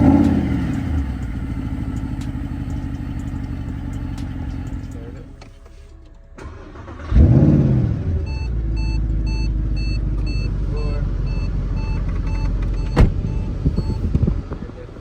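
A one-of-one Mercedes SLS AMG fires up with a sharp, loud rumbling burst, then settles into a steady deep drone as it drives off, with scattered clicks and soft background sounds.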